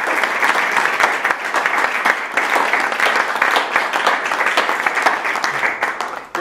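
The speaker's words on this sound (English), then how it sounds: "join me in applauding our three speakers" An audience at an academic panel on the First World War and the Middle East applauds steadily and loudly for three speakers, a dense sustained clapping that tapers slightly at the end.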